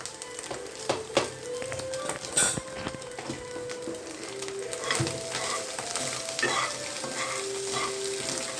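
Food fries in a pan while being stirred, a close, moderate sizzle punctuated by clinks and scrapes of a spoon against the metal, with no talking.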